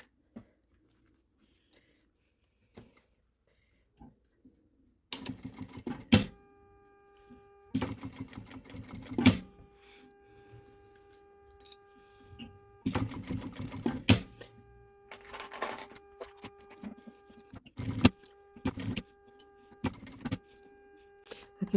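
A sewing machine stitches around the edge of a fabric document and passport holder in several bursts of rapid whirring, separated by quiet pauses and faint handling clicks, close up.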